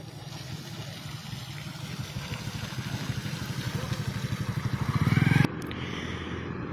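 A tractor engine ferries people through flood water, its steady thudding chug swelling louder as it nears and then cutting off abruptly, with water churning underneath.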